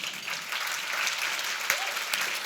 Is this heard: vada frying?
no